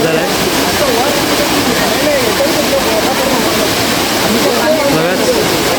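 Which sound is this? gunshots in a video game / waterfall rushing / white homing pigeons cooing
waterfall rushing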